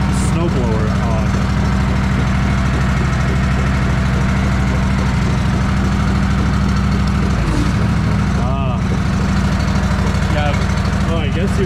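A snowblower engine runs steadily at close range, loud and continuous for the whole stretch, with faint voices now and then underneath.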